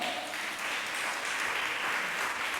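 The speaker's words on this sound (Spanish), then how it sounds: "dale un fuerte aplauso al Señor." A church congregation applauds in a steady, even wash of clapping, moderately quiet and continuous, with no voices standing out.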